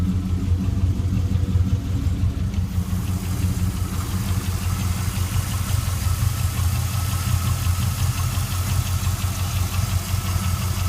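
A 2000 Chevrolet Camaro Z28 with an LS V8 engine and 56,612 original miles idles steadily, a close, even low rumble with a regular pulsing beat and no voices.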